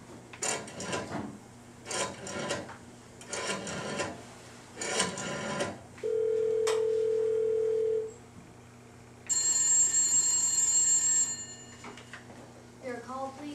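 An old telephone line ringing through an earpiece, a steady electronic tone followed by a longer buzzing ring with overtones, heard after several bursts of rasping noise, fairly clear and close.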